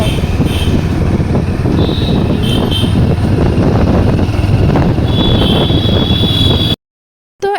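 A motorbike carries riders through the evening on the way to Mayapur, its steady roar heavily buffeted by wind against the microphone before cutting abruptly to silence near the end.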